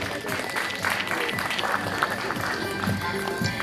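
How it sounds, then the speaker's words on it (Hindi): Steady, dense applause from a crowd at a district-level school talent search event, as teachers and students come onto the stage, sustained and fairly loud throughout with a faint voice underneath. "तालियां बजती रहनी चाहिए।"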